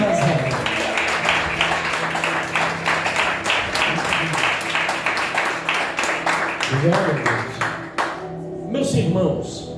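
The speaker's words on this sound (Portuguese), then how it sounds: "Pode se assentar aplaudindo a Jesus Cristo de Nazaré." A church congregation claps together in a dense, steady burst of applause that carries on for several seconds before tapering off, with brief musical tones near the end.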